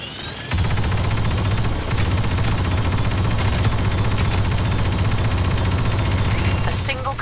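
Blaster fire in Star Wars Battlefront 2 at an Endor research station, rapid steady volleys of shots running nearly continuously, a voice speaking briefly over the fighting.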